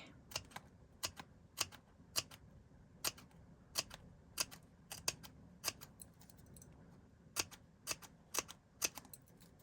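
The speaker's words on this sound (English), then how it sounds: "we need our little scissors, and we need to start snipping" Small scissors snip through paper feathers in a steady series of sharp, crisp clicks, close and fairly quiet over a soft background hiss, with no talking.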